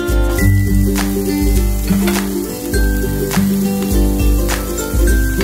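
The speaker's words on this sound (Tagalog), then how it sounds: "So, igigisa natin ang ating onion guys hanggang sa hindi magiging golden brown." Onion sautéing in oil and butter in a kawali for Italian-style spaghetti, a loud close sizzle with steady crackle and repeated utensil scrapes and clinks as it is stirred.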